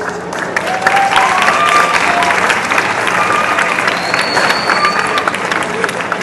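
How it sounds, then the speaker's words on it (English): A school audience claps steadily for debaters after an English class debate, a dense, sustained wash of applause from many hands with faint crowd murmur and a voice underneath. "let's give some claps for the groups, for the debaters"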